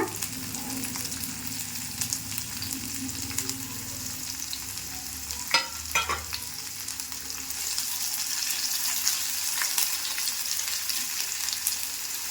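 Chopped onion fries in a pan for tomato gojju, giving a continuous crackling sizzle with a few sharper spits and utensil scrapes around the middle, and no one talks.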